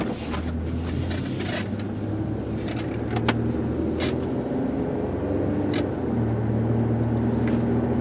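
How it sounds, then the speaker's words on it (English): A 2006 Buick Lucerne CXL sedan pulls away onto the road, its engine giving a steady low rumble with road noise and a few light clicks and rattles from inside the cabin. "So we're going to put it in gear here and head out on the road."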